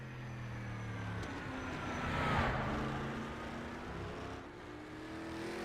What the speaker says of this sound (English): The engine survives a throttle blip.